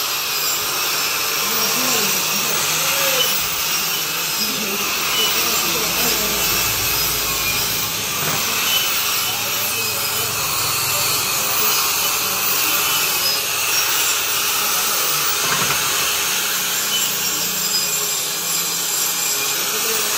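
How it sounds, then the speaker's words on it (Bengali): A power wire brush scrubbing discolored weld metal during cleanup after welding, a steady continuous abrasive whirring and rubbing that runs loud and unbroken for the whole stretch with no talk. "যেখানে গ্যানিং করছেন ওয়েল্ডিং এর উপরে এই জায়গাটা পাওয়ার ব্রাশ ভালো করে ধরলে একটু হিট হবে"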